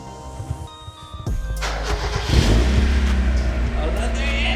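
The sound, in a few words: Mazda Miata with Magnaflow exhaust running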